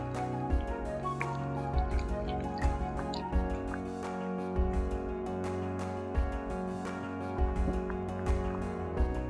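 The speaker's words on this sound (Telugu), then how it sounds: "ఆయిల్ వేడెక్కిన తర్వాత ఈ ఎండుమిర్చిని కూడా మనం వేయించుకోవాలి నూనెలో" Dried red chillies frying in hot oil for a Telugu rotI pachchadi chutney of amaranth leaves and okra, giving a steady close sizzle with irregular soft pops and crackles over a constant low kitchen hum.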